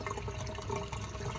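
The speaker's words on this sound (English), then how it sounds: "I've allowed all the excess water to flow back into the sump, and it'll just readjust itself accordingly." Excess water from an aquarium flows back into the sump with a steady, close rushing and trickling wash that stays constant throughout and has no voices over it.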